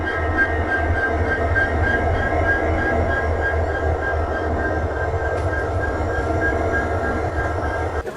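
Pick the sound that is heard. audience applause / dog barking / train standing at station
train standing at station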